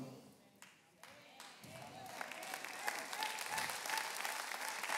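Audience applause at a sermon, swelling from scattered claps into sustained clapping that grows louder toward the end.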